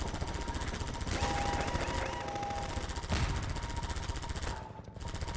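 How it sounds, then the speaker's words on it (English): A gun turret in the video game Half-Life 2 fires rapid, continuous automatic bursts, a steady rattling stream of shots that stays loud and close with brief dips between volleys. "Ah, there's another gun turret here."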